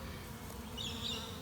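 A swarm of honey bees hums steadily and softly in the open near a hive box set with frames of foundation, a continuous quiet buzz with a slight swell toward the end.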